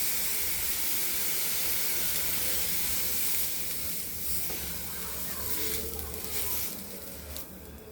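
Rava dosa batter sizzles and hisses steadily on a hot tawa, a loud close frying crackle that continues throughout with no talking.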